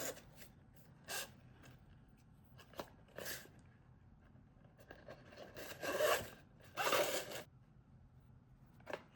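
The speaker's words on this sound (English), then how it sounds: "So you just squeeze this together to align the holes and pull it through." Green velvet ribbon drawn through the aligned holes of a gingerbread-house gift box, heard as soft, quiet fabric rubs and swishes in a few brief bursts with pauses between.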